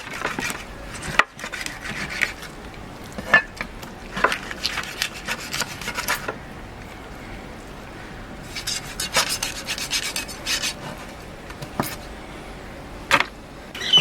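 A knife scrapes and rasps through tuna on a cutting board while the fish is cut into small pieces. The strokes come in irregular bursts of close, dry rubbing with sharp clicks between them, and no one speaks.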